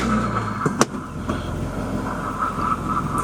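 A BMW E36 with a replaced throttle part and lingering fault codes, driving with a steady low engine hum and road noise, a single sharp click early on, heard from inside the car.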